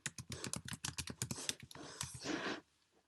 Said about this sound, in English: Type historical fiction